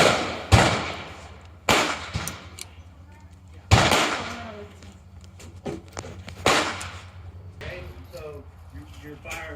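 Handgun shots fired at an outdoor shooting range: four or five loud, sharp cracks spaced a second or two apart, each with a short ringing decay, with people talking quietly in between.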